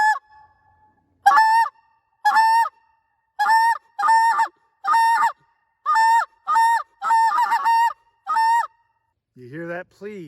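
A short reed Canada goose call is blown in a rhythmic series of about a dozen sharp two-note honks, loud and close. A brief voice follows at the end.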